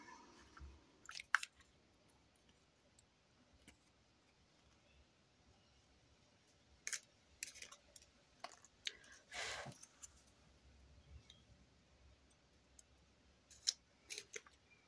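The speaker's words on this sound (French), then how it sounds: "Avant, il faut faire des petits trous. Alors, des petits trous avec la perfo." A hole punch snaps through sturdy paper in a scatter of crisp, quiet clicks and crunches, separated by near-silent pauses during a 20x20 album craft session.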